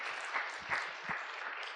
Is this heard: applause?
yes